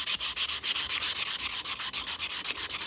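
Outboard propeller edge being hand-sanded, a fast, even rhythm of rasping strokes, about eight per second, close and bright with no voices.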